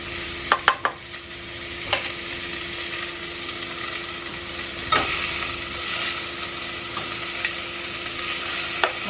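Fish frying in a pan of oil, a steady close sizzle with occasional sharp pops and crackles, no talking.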